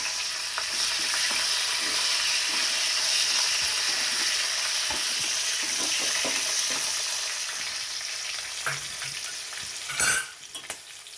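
Dried red chilies and green chilies fry in hot oil for a dal tempering, a continuous close sizzle and crackle broken by scraping stirs and a sharp spatter near the end.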